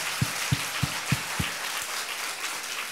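At a youth church camp testimony, a few distinct claps ring out one after another, five or so sharp hits spaced about a third of a second apart over a soft, hissy room background, then fading.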